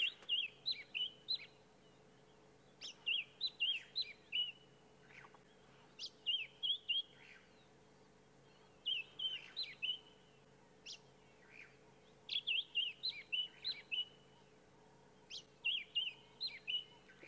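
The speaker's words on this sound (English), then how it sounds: "It is a white-browed scrub robin, but that's all I'm going to say because I want you to listen to its beautiful call." White-browed scrub robin singing at sunrise, with repeated short bursts of bright, clear whistled phrases separated by pauses over a faint steady hum; fairly close and alone without speech.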